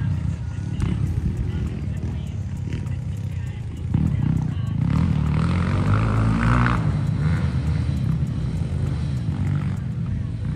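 Small Rookie and Kayo TT 140cc dirt bikes ridden by kids, engines buzzing and revving at varying distance, rising louder midway, with someone talking throughout.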